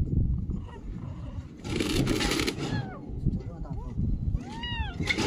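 A rain-soaked stray kitten gives a few short, thin meows near the end, heard close over gusty wind and a person speaking softly to it.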